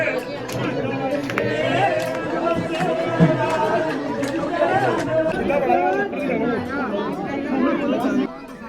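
Pilgrims queuing at a busy Himachal temple on a weekend produce a close, continuous babble of many overlapping voices that holds steady throughout.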